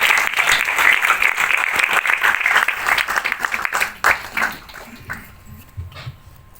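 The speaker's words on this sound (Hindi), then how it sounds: "जोरदार तालियों से आदरणीय देवेंद्र जी को बुलाया जाए" Loud applause greets a speaker called to the stage at a comedy poetry gathering in Yangon. Dense clapping thins out after about four seconds into scattered claps, with a dog barking faintly near the end.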